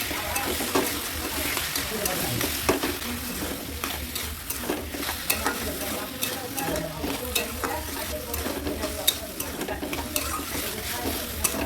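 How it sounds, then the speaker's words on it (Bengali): Banana flower frying with spices in a pan, a steady crackling sizzle with frequent scraping stirs of a spoon against the pan, close and continuous. "মোচাটা দিয়ে এবার নাড়াচাড়া করে নেব"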